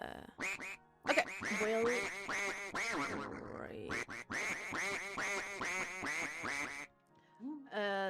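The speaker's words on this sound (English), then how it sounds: "and the ducks are back" Ducks quack in a long, steady series of loud, close, nasal calls that stop briefly near the end and then resume, with a short spoken remark among them.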